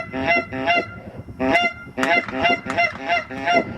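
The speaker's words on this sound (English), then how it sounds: "Here come the geese." Geese in flight honk repeatedly in loud, overlapping calls, several birds nearby, with brief pauses between bursts.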